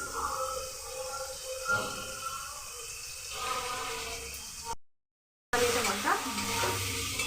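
Tomato with salt and turmeric fries in a pan for mixed vegetable dal, giving a moderate sizzle with stirring scrapes, a brief dropout midway, then louder frying resuming.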